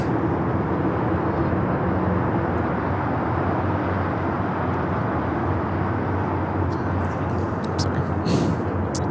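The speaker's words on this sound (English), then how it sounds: "8173 taking off to Shanghai on the 747-400 converted freighter" A 32-year-old Boeing 747-400 converted freighter takes off from Los Angeles airport, its broad, steady engine roar loud and constant throughout, with a brief brighter hiss near the end.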